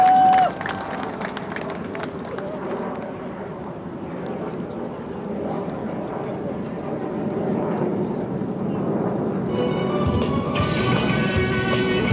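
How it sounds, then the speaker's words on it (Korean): A crowd at a Korean election rally cheers and claps continuously, a dense roar that swells gradually. Near the end a bright musical tone begins as a performance starts. "끝나는 시간까지 박수, 응원, 함성 많이 부탁드리겠습니다."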